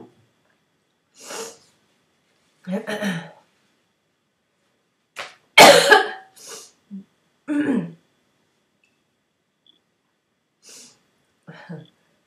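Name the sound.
coughing fit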